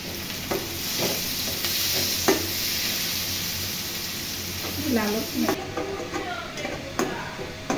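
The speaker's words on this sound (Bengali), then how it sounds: "এরপরে আমি 3 টেবিল চামচ কুচি পেঁয়াজ ছেড়ে দিয়ে ভালো করে একটু ভেজে নিচ্ছি।" Chopped onions fry in oil seasoned with panch phoron for a sweet-sour-spicy aubergine dish, giving a steady, close sizzle with occasional stirring scrapes; a faint voice murmurs in the background toward the end.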